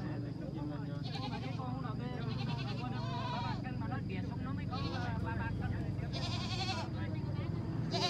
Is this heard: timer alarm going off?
no